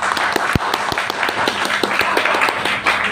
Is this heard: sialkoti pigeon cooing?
no